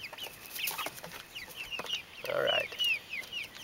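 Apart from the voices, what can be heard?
chickens clucking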